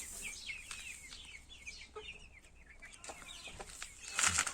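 Young chickens cluck and peep steadily nearby on a small farm, with scattered chirps and rustling throughout and a louder burst of activity at the end.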